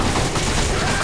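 Rapid gunfire from a Resident Evil 5 gameplay session, a dense burst of shots filling the brief moment loudly.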